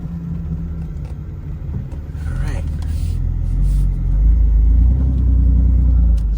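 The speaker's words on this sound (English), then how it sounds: "Gotta go over this bump a little easy." A BMW F82 M4 engine rumbles at low speed over a bump at a dealership, growing deeper and louder as the car eases forward, with a brief creak partway through.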